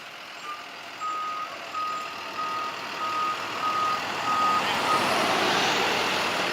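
A FedEx delivery truck backs up, its reversing alarm beeping steadily about eight times over a rumbling engine and street noise, with no talk.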